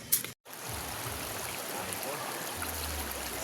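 A provincial river flows steadily with a constant rushing, trickling wash, moderately loud and continuous after a brief handling bump at the start.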